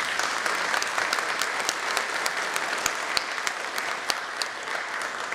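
Audience applause fills a concert hall during a Romanian folk music event, a dense, steady wash of many hands clapping close and loud for the whole stretch, with no talk over it.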